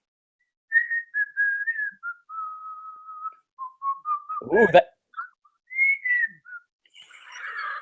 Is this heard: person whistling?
yes